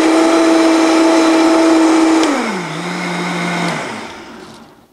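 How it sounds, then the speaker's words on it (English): A Vitamix blender runs on high, grinding almonds into a fine meal, with a loud steady motor whine that holds for about two seconds and then drops in pitch, stays lower, and fades out as it shuts off. "So I would put it on the puree or your high on the Vitamix."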